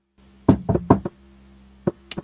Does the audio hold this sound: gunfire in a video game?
no